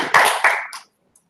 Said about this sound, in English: Can we give them a round of applause for shipping code?